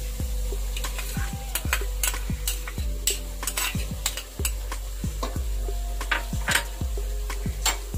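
Green chili paste going into frying chicken pulao, a steady loud sizzle with regular rhythmic clinks and scrapes of a ladle against the pot, roughly two per second, close and continuous, no voices.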